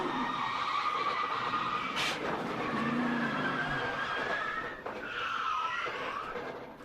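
Race car tires lock up and skid during qualifying for the 2018 KC Masterpiece 400, a long steady screech with a sharp scrape near two seconds and engine roar throughout.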